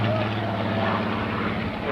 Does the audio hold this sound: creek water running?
no